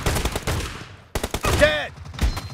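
Heavy video game gunfire in an arena ladder match, loud overlapping shots and bursts with a short gap midway, a ringing whine trailing after one volley and a final blast near the end.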